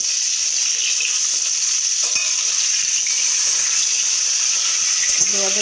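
Pomfret fish frying in hot oil, a steady dense sizzle and hiss throughout with occasional light pops and crackles, close and loud, no talk.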